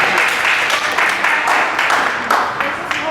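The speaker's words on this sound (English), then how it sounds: "please give a big applause again" An audience at a university lecture breaks into steady applause, a dense continuous clapping that carries through the whole moment.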